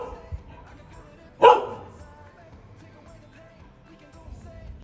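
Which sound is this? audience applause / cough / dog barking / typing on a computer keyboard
dog barking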